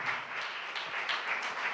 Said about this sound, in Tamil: நேசத்துக்காக நல்ல கைத்தட்டி தேவனுக்கு நன்றி சொல்லுவோம்.